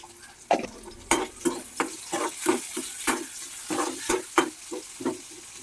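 Cumin and mustard seeds frying in hot oil for a bitter gourd and onion karam, a close crackle broken by a quick series of sharp pops and spatters, irregular and fairly loud, with no talking.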